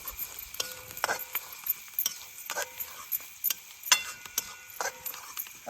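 Turmeric mixture being stirred in a pan over a wood-fired stove, with repeated scraping strokes and light clinks above a soft sizzle, fairly close and steady.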